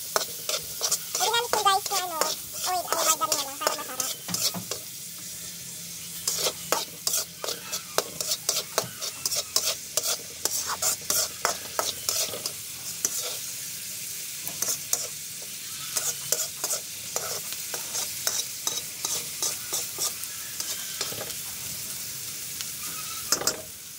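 Margarine sizzling in a pan while carbonara is stirred, with rhythmic spoon scrapes and clanks over a steady fry; a voice hums briefly at the start.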